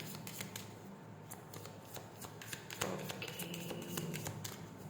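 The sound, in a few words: shuffling tarot cards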